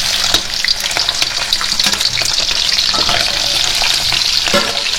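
Bones frying in hot oil make a loud, dense, continuous sizzle with crackling spatter throughout, close up and steady, with no talk.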